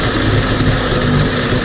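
A Mercury 50 two-stroke outboard motor, freshly fitted with a new fuel filter, idles steadily up close, a smooth, even engine drone with no sputtering across the whole stretch.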